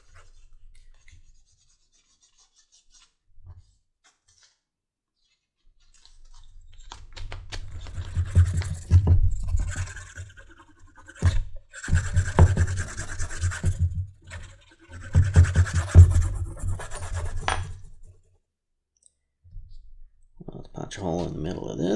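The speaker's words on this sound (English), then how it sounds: "use a wood chisel to cut a slot beside it" A wood chisel cutting a slot in leather for a button stud on a sheath, giving bursts of close scratching and scraping with short pauses between strokes and a voice talking near the end.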